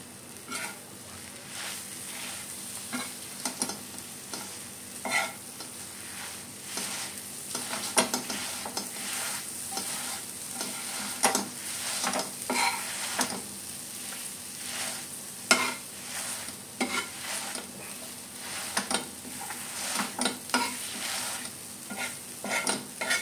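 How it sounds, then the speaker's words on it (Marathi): Egg bhurji fries in a pan while being mixed, with a continuous soft sizzle and repeated scraping and tapping of a spatula, close and fairly quiet over a long stretch, no talking. "ओके, ही भुर्जी आपण मस्तपैकी मिक्स करून घेऊया."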